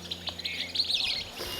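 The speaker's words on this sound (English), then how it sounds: "Hear the birds chirping?" Birds chirping outdoors, a few high tweets and twittering calls close by, with no talking.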